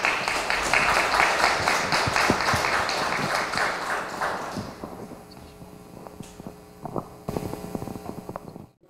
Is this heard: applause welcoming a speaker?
yes